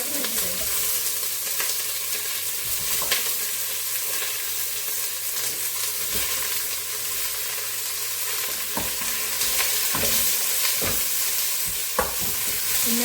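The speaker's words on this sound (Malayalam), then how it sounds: "ഇനി ഈ സവോള നന്നായിട്ട് ബ്രൗൺ കളറിലാവണം. അതുവരെ നമുക്ക് ഇളക്കാം." Sliced onions sizzle steadily in hot oil while being stirred for mushroom biryani, with close scraping and clinking of the spoon against the pan breaking through the frying hiss at intervals.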